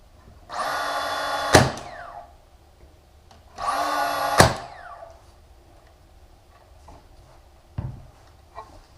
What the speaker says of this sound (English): Let me get the nail gun.